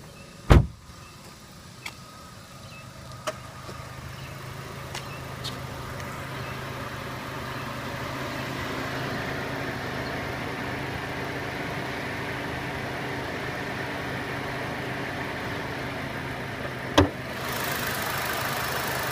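A 2014 Chevrolet Sonic LTZ with a 1.8-liter turbocharged four-cylinder engine idles steadily, a low even hum with a few clicks and knocks near the start and one sharp knock near the end.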